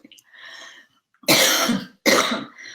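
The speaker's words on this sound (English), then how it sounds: "I'm going to cough." An adult coughs twice in close succession, two loud harsh bursts following a faint throaty murmur, close to the microphone.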